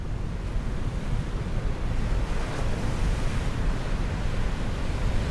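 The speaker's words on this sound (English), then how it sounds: "Oh, there's some good waves there." Rough ocean surf crashes on an Iceland shore, a continuous loud roar of breaking waves mixed with heavy wind buffeting the microphone.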